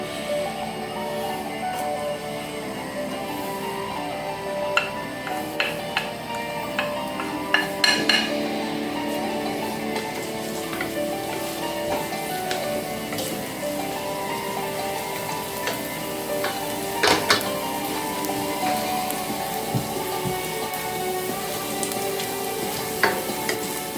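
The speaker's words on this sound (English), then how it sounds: "I'm going to add some diced up garlic, not onions." Diced garlic fries in a hot pan for pork fried rice, a steady loud sizzle with scattered clinks and scrapes of a utensil against the pan, no voices.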